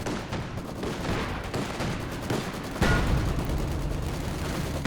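Artillery barrage and gunfire in the real-time strategy game Company of Heroes 2: dense, loud crackling bursts of shots and booms rolling continuously, with a heavier impact about midway that keeps the roar thick to the end.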